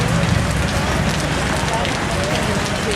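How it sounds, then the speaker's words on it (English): Steady rain falls hard and close on a motorcycle trip, forming a dense, continuous hiss with no breaks. "Walking in the rain."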